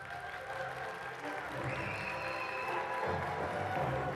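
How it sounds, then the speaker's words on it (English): Audience clapping to welcome a guest speaker at a tech event, a steady wash of applause from a room of people, moderately distant, with faint voices mixed in. "A warm round of applause, please, for Mr. Andrei Stănescu."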